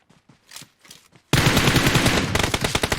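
Gunfire in the mobile battle-royale game PUBG Mobile starts abruptly after a few soft clicks and footsteps, then continues as a loud, dense burst of rapid automatic shots lasting to the end.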